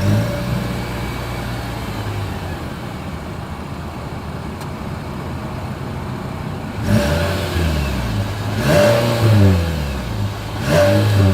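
The exhaust of a 2023 Nissan Sentra idles steadily up close, then the engine is revved three times. Each rev swells sharply and falls back to idle.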